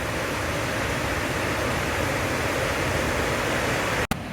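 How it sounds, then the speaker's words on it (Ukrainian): The Lower Falls waterfall in Rochester roars as a steady, dense wash of rushing water, loud and unbroken, with a brief dropout near the end. "Зараз я буду спускатися до Lower Falls, нижні водоспади у Рочестері"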